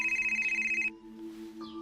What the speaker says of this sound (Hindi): ये तुम्हारा फोन बज रहा है, फोन लो।